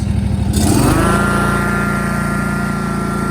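A Ferris 32-inch Hydrocut walk-behind mower engine, blades engaged, climbs from idle to full throttle and holds a loud, steady drone close by.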